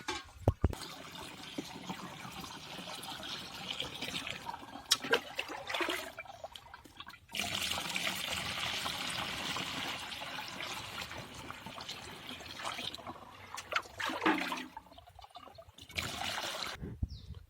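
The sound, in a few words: water filling a sprayer pump tank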